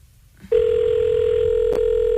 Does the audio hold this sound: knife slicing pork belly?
no